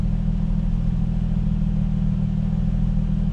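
Nissan/Infiniti G35 sedan engine idling slightly high with a steady, loud, even low rumble that never changes pitch, close up and with no voices.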